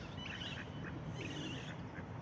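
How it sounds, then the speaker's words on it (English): Male ducks quack and splash as they dive into a park pond in Germany, with repeated nasal calls heard over a steady wash of water and outdoor background noise. "That is a male duck trying to dive into the water."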